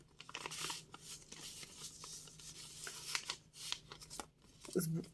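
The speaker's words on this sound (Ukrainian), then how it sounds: "І от я зараз відкрила цю листівку" A paper postcard, tinted with coffee and kept in a handmade junk journal, is opened by hand: repeated close, soft papery rustles and crinkles, with a brief louder handling sound near the end.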